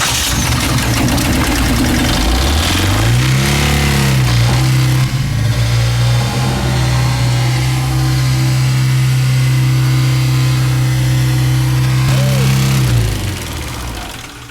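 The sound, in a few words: truck engine cranking and revving with throttle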